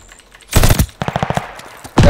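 Gunfire in the video game Call of Duty Vanguard: a loud close burst, then a rapid automatic volley of about eight shots, and another burst at the end.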